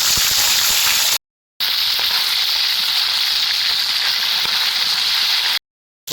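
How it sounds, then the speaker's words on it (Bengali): Piranha fish pieces fry in hot oil with a loud, dense, continuous sizzle up close, broken by two brief silent gaps, with faint stirring or shifting beneath the crackle and no talking. "এগুলো আর একটু ভালো করে ভেজে নিচ্ছি।"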